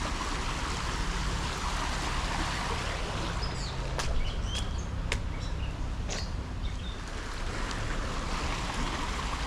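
A river rushes past in a steady, broad wash of flowing water on a rainy day, with wind buffeting the microphone and a few faint high chirps and clicks over the constant roar.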